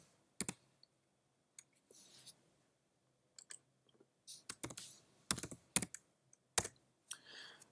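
Quiet clicks and taps of a computer keyboard as a material name is typed in 3D modelling software, irregular bursts of keystrokes with short pauses between.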